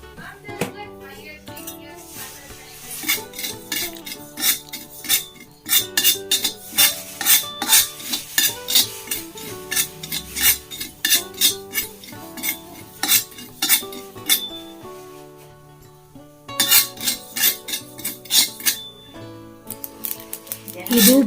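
A spoonful of mustard seeds dry-roasting in a pan for a homemade hair dye, with bursts of rattling and metal spoon scraping that come in rapid clusters, close and fairly loud, with a brief pause midway.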